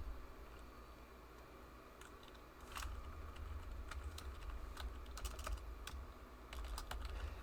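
Quiet keystrokes tapping on a computer keyboard during a programming session, irregular clusters of light clicks over a steady low background hum, with no one speaking.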